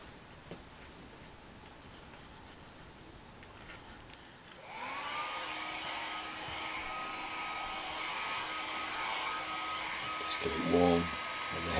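After a few seconds of quiet room tone, a hair dryer switches on and blows with a steady whine across a vinyl transfer laid over soapy water on a bus-style bunk bed in a small shed, with a few knocks near the end.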